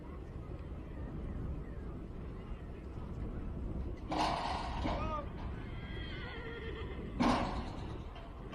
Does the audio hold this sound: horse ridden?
yes